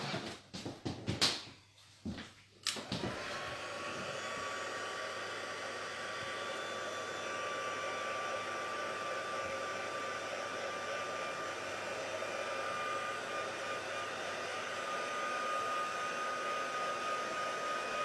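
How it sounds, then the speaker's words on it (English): A handheld heat tool drying a wet craft piece blows a steady, loud whoosh that starts after a few knocks and handling clicks, then runs continuously and evenly for the rest of the time. "So just grab my heat tool."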